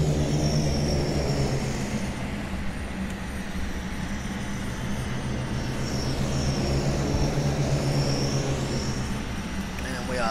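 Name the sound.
C-130 aircraft landing in Captain Sim flight simulator video game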